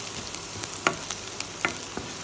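Onions fry in a pan for a broccoli and spinach kadhi, a soft continuous sizzle with a couple of sharper pops and light stirring clicks, close but fairly quiet, no talking.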